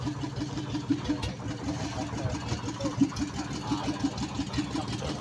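A boat's engine idling as the vessel comes into port on the Maasin to Cebu run, a low steady chugging with regular rhythmic knocks, moderately close and alone without talk.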